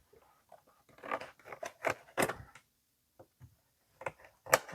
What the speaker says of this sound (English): I think I'm going to have to cut this here.